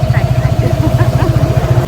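A motorcycle engine idles close by with a steady, rapid low throb that holds unchanged throughout, with faint voices in the background.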